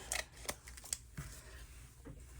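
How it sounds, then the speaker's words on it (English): Scissors snip along the edge of a junk journal page in a quiet room, a few close, crisp cuts with short pauses between them and small rustles of paper. "So let's get our scissors. Go down through here and trim this edge."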